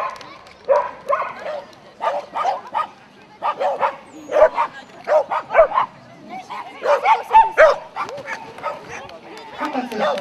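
A dog at a dog agility competition gives a run of sharp, excited barks and yips in irregular bursts, fairly close and alone between gaps.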